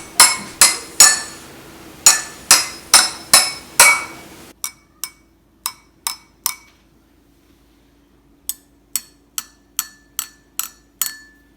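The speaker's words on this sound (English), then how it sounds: "you can use your chopsticks to hit the glass containers and see the different pitches that are created" Bright ringing taps of chopsticks on water-filled glass jars, a quick run of strikes, a pause, then another run, each note at a slightly different pitch with a short fading ring.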